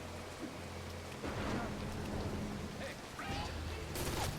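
Rain patters steadily during a thunderstorm, a soft continuous hiss with louder swells and a low distant rumble, fairly faint overall, with occasional sharper sounds near the end.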